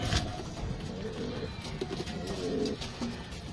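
Tippler pigeons in a loft at feeding time give soft, low cooing calls, close and fairly quiet, with bird movement and faint rustling around them.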